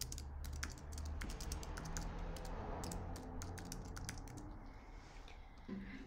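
Steady typing on a computer keyboard as template text is edited in Canva, with fast, dense key clicks running continuously for about six seconds and no voices.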